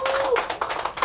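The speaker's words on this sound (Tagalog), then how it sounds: "Sige nga, pumalakpak nga!" A studio audience gives a short burst of scattered clapping, a few uneven hand claps close by, with a brief voice tone underneath.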